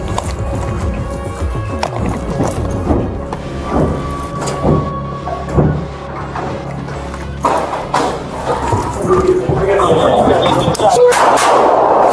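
Gunshots ring out during a police bodycam incident involving an active shooter, with sharp loud reports standing out from a busy background of movement and voices.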